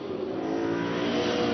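A race car in a Superstars Series race at the Hungaroring brakes hard, its engine note sustained and fairly distant as it slows for a corner, with no voices over it.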